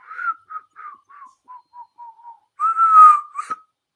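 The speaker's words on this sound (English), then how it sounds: "I can't even whistle." A person tries to whistle, producing a string of short, breathy, faltering notes before one longer, clearer sustained whistle near the end, close and fairly loud with no talking.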